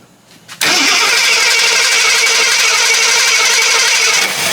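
The engine of an old Jeep that sat for 25 years cranks without firing: after a brief quiet start, a loud steady starter-motor churn runs on continuously close by, with no talk.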